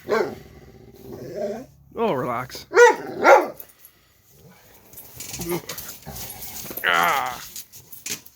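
A dog barks in several short, close bursts mixed with growly, whiny sounds, and someone talks over and between them.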